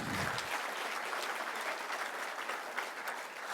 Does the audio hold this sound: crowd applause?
yes